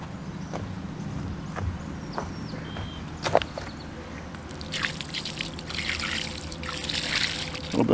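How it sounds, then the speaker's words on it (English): Clean water is poured over pieces of a broken Civil War veteran's headstone, a trickling splash with scattered taps and drips that grows louder toward the end. "Now we'll just rinse both these pieces off with some clean water."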